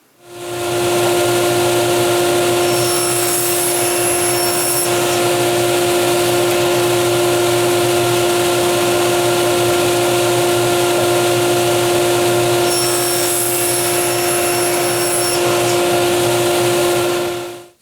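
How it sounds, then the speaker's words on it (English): A saw rips a board lengthwise into strips 1 1/4 inches wide, making a loud, steady whining drone that runs for most of the clip after spinning up, then winds down at the end. No one speaks. "we're going to rip this into a whole bunch of strips, being 1 1/4 of an inch wide"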